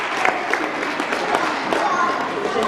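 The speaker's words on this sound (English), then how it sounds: "Big round of applause." Applause from an audience at an All Saints Day school presentation, a dense patter of many hands clapping steadily for a few seconds and filling the room.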